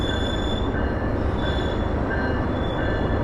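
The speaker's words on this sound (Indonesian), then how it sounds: "Dan ini sebentar lagi langsung papasan teman-teman dengan kereta api Lodaya tambahan dari Solo Balapan menuju ke Bandung." Lodaya passenger train passing at Kroya station in Indonesia, a steady loud rumble of railcars rolling by with faint wheel squeal running throughout, no voices.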